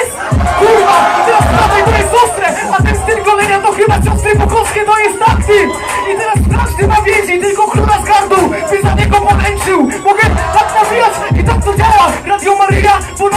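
At a rap battle in Słupsk, a crowd cheers and shouts loudly and continuously, with rhythmic chanting, whoops, a thumping beat underneath and a voice calling out over the noise.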